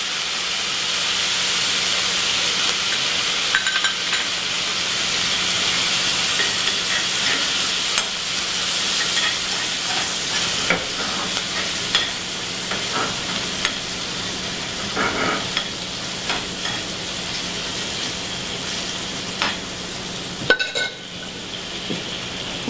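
Vegetables for a summer bean and cornbread salad sizzle steadily in a pan with butter, a constant close frying hiss with occasional stirring scrapes and clinks throughout.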